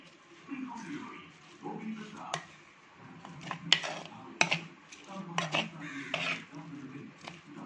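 A lid set down on a cooking pot of onions and water in a home kitchen gives a few sharp metallic clanks and clatters, with someone talking around them.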